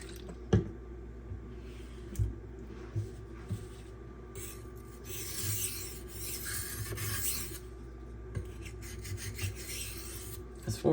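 A Kubey Master Chief KU358B kitchen knife with an AUS-10 steel blade is drawn over a 400 grit whetstone in steady alternating strokes, giving a close, continuous gritty rasp with occasional faint clicks and no talking.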